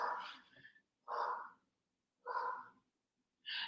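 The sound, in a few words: dogs barking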